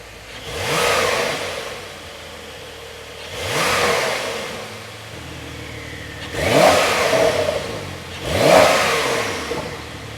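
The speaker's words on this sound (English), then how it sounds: "hear that twin turbocharged flat 6 with 450 horsepower sing its heart out" A Porsche 911's twin-turbocharged 450-horsepower flat-six barks through its exhaust in four loud, separate revs spread evenly across the stretch, each rising sharply then falling back toward idle, with no voices.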